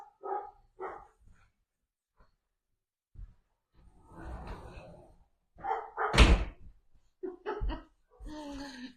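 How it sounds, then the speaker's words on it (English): Dogs bark in short bursts at a distance indoors, scattered between quiet gaps, with a loud thump or slam and a few sharper yaps near the end. "Those dogs will be quiet in a sec."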